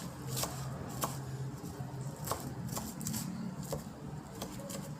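A knife chops amaranth greens on a board in a home kitchen, a steady series of quick, close taps at an irregular pace with no talking.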